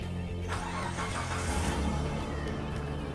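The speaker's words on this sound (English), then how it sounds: "So now I'm starting the engine." A car engine cranks and catches at close range, a steady mechanical rumble running throughout with no talking.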